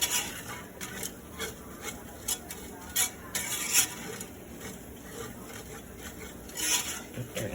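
Flour stirred steadily in a skillet as it browns, with a spoon scraping the pan bottom in soft, irregular rasps and scuffs close by.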